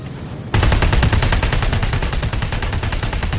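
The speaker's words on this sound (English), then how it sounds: "a perfected 3D sound design with authentic guns and plasma rifles, as well as the actual Terminator sounds" Rapid automatic gunfire from guns and plasma rifles in Terminator: Resistance on PS5 erupts suddenly and rattles on continuously, loud and close, with no talking.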